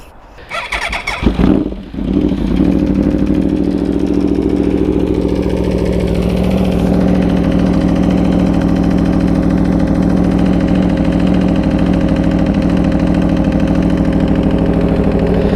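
Motorcycle fitted with a long SC Project exhaust can starts with a brief burst, then settles into a steady, loud, deep bassy idle up close for the rest of the clip.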